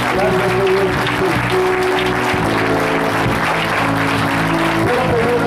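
Loud, continuous applause from a church congregation, with sustained tones from music or voices running underneath the clapping.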